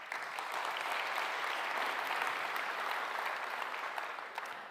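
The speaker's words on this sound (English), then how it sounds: "Warm round of applause for Radoslav, everyone, please." A conference keynote audience claps steadily in sustained applause, a dense patter of many hands that tapers slightly at the end.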